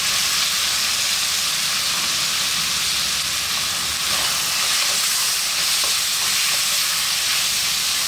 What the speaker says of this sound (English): And to that, we're gonna add our sliced onion.